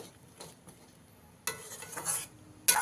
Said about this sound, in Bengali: এবারে দিয়ে দিচ্ছি ভেজে রাখা মাছগুলো এই গ্রেভির সাথে ভালো করে একটু মিশিয়ে দিতে হবে